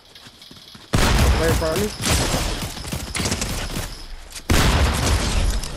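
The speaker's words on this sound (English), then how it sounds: "I'm getting shot at." Dense bursts of rapid gunfire in a video game, loud and close, erupting in sustained volleys that briefly let up, while someone speaks over the shooting.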